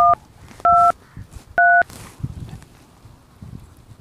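A telephone is dialed with three loud, crisp keypad tones in quick succession, each a short steady beep, followed by faint rustling and room noise.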